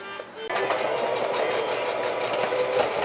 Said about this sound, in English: I'm going to go to the sewing machine and do this little part